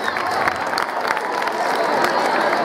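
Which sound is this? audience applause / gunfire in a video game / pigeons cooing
audience applause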